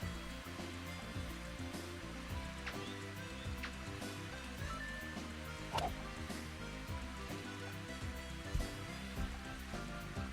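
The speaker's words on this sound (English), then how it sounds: "Driving rain and headwind." Driving rain with a headwind on a golf course in the Mario Golf video game, a steady dense hiss that runs through the whole stretch over a low, busy layer of game music.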